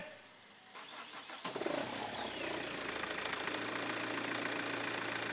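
A Chevrolet Cruze diesel car engine cranks and fires after a brief quiet moment, then settles into a steady, slightly rattly idle that holds to the end.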